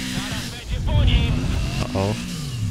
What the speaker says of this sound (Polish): Patrzcie, mogę palić kapcia na 4 koła w miejscu.